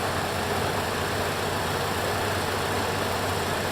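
A 1968 Buick Electra 225 V8 fitted with an ACES Killshot 2 EFI system idles steadily, a loud, constant engine drone with no revving, heard up close and alone.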